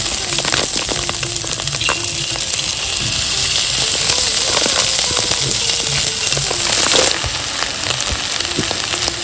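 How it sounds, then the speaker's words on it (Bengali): Jhuri bhaja batter strands dropped into hot oil over medium heat, a loud constant frying hiss with scattered crackles and pops, close up, with a brief louder burst near the end. "ছেড়ে দিচ্ছি তেলে। একদম মিডিয়াম আঁচে কিন্তু ভেজে নিতে হবে।"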